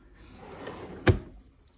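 A makeup storage drawer slides and closes with a single sharp thump near the middle, preceded by a soft rustle of handling in a quiet room.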